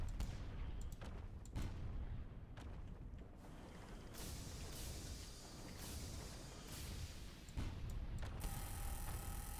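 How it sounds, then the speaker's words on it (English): Cannon fire in the game Sunless Skies: a run of sharp booming shots with mechanical clanks and rattles between them, loud and close, with no talk over it. "Let's fire the cannons."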